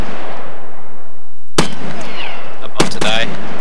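An enemy Scav fires in a video game: two sharp, loud gunshots about a second apart, each with a short ringing tail, against a quiet background.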